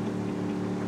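A car engine in Ghost Recon Wildlands labors under strain, giving a steady, droning hum with a constant low pitch for the whole brief moment.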